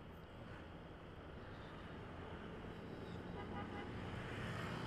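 Busy road traffic, a steady roar of passing cars and motorbikes in a jammed street, with a short horn toot standing out over the continuous engine noise; no talking.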